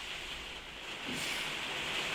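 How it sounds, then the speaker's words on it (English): Steady, dense hiss of heavy rain, broadband and continuous, swelling slightly louder partway through with no voices. "Sorry for the rain, guys. We've got that coming in now."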